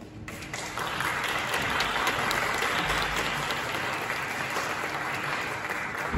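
An audience applauds an introduced speaker, a loud, dense wash of clapping that starts abruptly and holds steady throughout, with no talk over it.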